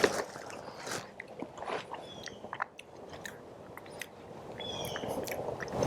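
Someone eats diced pears from an MRE pouch, with soft wet biting and chewing close to the mic, irregular and quiet, with no talk.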